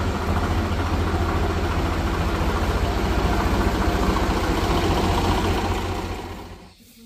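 A tractor engine runs loud and close over harvested pearl millet, a steady low throbbing drone that holds evenly before fading away near the end.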